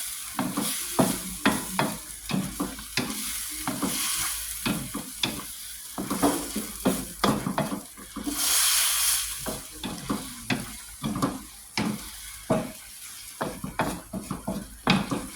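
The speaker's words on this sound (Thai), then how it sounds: "เราก็ผัดเห็ดให้สุกก่อนนะคะ เราค่อยใส่กุ้งลงไปค่ะ" Mushrooms and shrimp stir-fried in a pan, with a steady sizzle broken by frequent, rhythmic spatula scrapes and clinks against the pan, close and fairly loud throughout.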